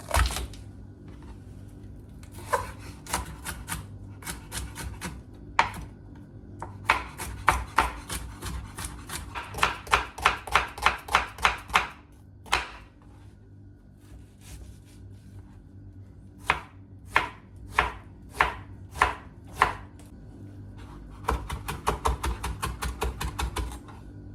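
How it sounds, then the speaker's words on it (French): A knife chops bell peppers into small dice on a board, with quick bursts of sharp, crisp taps in fast runs separated by short pauses, close and clear with no talking. "Je coupe les poivrons aussi en petits dés."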